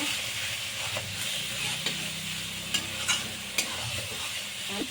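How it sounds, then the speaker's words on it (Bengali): Spice masala with turmeric frying in a pan, a steady sizzling hiss throughout with occasional scraping clicks of a spoon being stirred, close and fairly loud. "হলুদে দিয়ে দিয়েছি এবার মশলাটাকে আমি ভালো করে কষিয়ে নেব"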